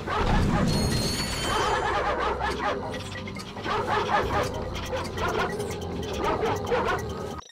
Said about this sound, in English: Can I convince the doggos to... come to the laser?